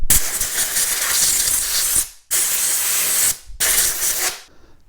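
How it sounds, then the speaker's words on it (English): Compressed air blasts into the suspension of an Arrma Outcast/Kraton 8s 1/5th-scale RC car, three loud, broad hissing bursts separated by short silences, the last tapering off, with no talking. "I am going to clean this out a little bit with some compressed air."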